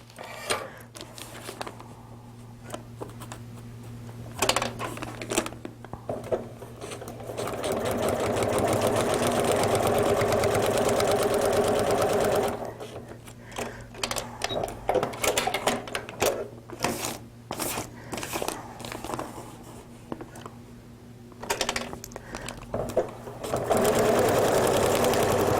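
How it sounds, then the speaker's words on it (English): A sewing machine stitches a long straight seam on a paper-pieced quilt block, humming in close, continuous runs broken by short stops and clicks, with no voices. "Now I'm going to sew from this side this entire line from here to here,"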